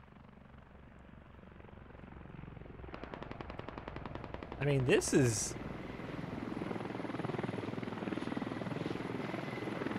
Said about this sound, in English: Hip helicopter hovering in.